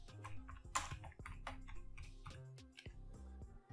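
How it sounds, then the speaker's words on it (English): Fingers type text on a computer keyboard in a quick, irregular patter of faint, close key clicks over a few seconds, with no voice. "I'm going to type my text."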